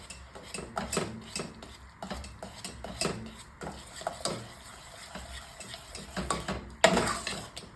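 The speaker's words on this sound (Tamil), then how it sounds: "சேர்த்துட்டு கட்டிகள்லாம் இல்லாமல் நல்லா மிக்ஸ் பண்ணி விட்டுக்கோங்க" A utensil stirs jaggery in a pan to work out the lumps for sago halwa, with irregular scraping and clinking strokes close up and one sharper knock near the end, and no voices.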